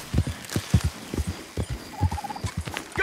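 Horse hooves clip-clop steadily while riding through woodland in Red Dead Redemption 2, a quick, close, fairly quiet patter of hoofbeats running throughout, with a faint whistle-like tone briefly above.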